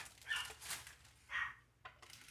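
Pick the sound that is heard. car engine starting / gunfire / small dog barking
small dog barking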